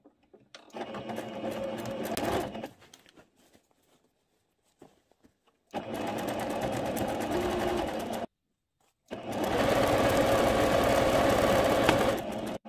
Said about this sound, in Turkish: Bir daha katlama yapıyorum. Bu şekilde dikiyorum.